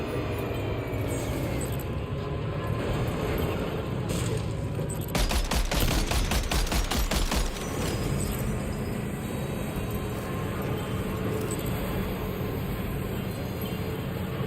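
Rapid cannon fire from a vehicle in the Death Stranding 2 video game bursts out as a fast, loud volley of repeated shots lasting a couple of seconds over a steady rumbling engine and game ambience, with no speech.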